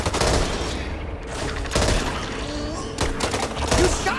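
Gunfire in the co-op zombie shooter Back 4 Blood: loud, close bursts of rapid shots in three clusters, with brief lulls of game noise between them.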